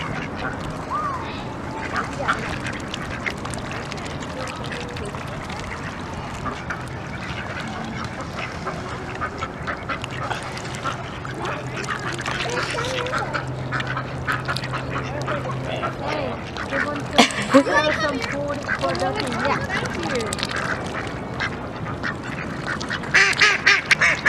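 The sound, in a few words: ducks quacking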